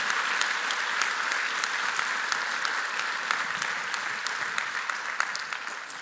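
A Bard College commencement audience applauds steadily at the 2021 ceremony, a broad wash of many hands clapping at even loudness throughout, with no voices on top.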